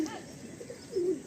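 Madrasi pigeon giving a short, soft coo, faint and brief against a quiet background.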